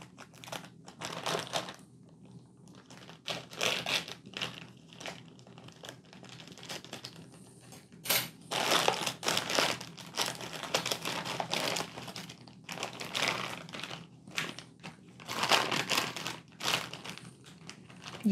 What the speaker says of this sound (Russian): Ну что, давайте распаковывать нашу посылочку.